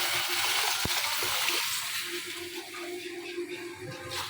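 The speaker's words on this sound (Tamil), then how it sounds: "இப்போ கலந்து வச்சுருக்கிறத எடுத்து ஊற்றணும் ஃப்ரெண்ட்ஸ்" Mixed liquid poured into a cooking pot of fish curry, a steady watery hiss and sizzle that runs throughout at moderate loudness, with one sharp tap near the start.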